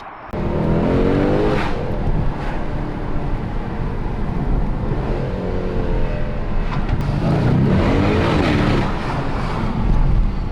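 Mercedes-AMG C63 with its V8 driving hard, a loud close engine roar rising through repeated acceleration sweeps and gear changes, continuous and without talk.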